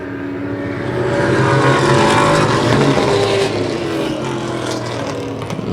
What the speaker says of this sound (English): great race cars that turn laps around these tracks in the Northeast